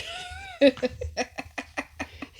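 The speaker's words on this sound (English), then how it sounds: "I do apologize if you hear the meowing." A single drawn-out cat meow rises and falls at the start, followed by a series of short, soft clicks or taps nearby.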